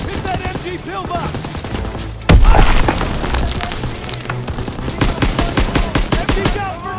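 Machine gun fire in a Call of Duty WW2 battle: sustained rapid bursts of automatic fire, starting with a heavy boom, then a dense rattle that grows into a fast steady rhythm, loud and close, with shouted voices mixed in the chaos.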